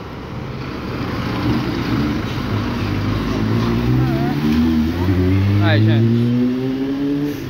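A Torino 2007 city bus on line 805 pulls away from the Magé bus station, its engine rising steadily in pitch as it accelerates, loud and close with a person speaking briefly over it.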